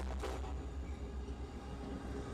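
A CSX freight locomotive assisting the northbound Auto Train passenger service after a fuel leak in its lead unit, heard as a steady, loud, low rumble that rolls on without a break and with no voices.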